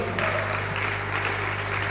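An audience at a microbiology lecture breaks into brief steady clapping over a low sustained hum.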